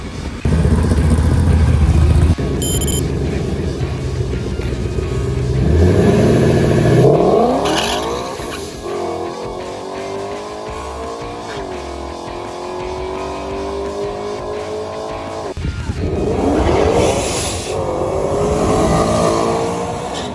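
A drag racing car revs hard in loud, repeated bursts with rising and falling engine pitch, warming its transmission before a pass, with no talk over it.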